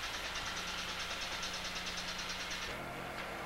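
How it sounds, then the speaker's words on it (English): An asphalt paver rolls past while paving a second lane that slightly overlaps the first. Its engine gives a steady, moderately quiet rumble with a faint knocking idle texture, heard alone without voices. "After the paver goes by, the joint should be ready for rolling."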